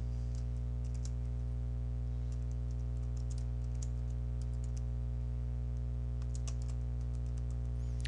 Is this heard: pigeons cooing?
no